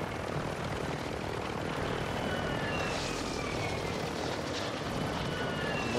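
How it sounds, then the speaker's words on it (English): Aircraft in Call of Duty flying over to deliver a loadout drop, a steady broadband propeller-engine drone, fairly close and continuous, with no voices over it. "Landing the weapon. Loadout drop headed your way."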